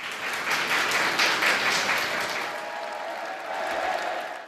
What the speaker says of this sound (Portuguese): Os prisioneiros receberam o Papa com aplausos.